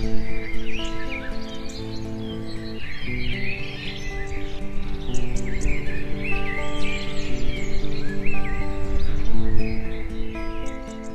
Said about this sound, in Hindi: सुबह सुबह पक्षियों का चहचहाना कानों में मधुर रस भी घोलता है।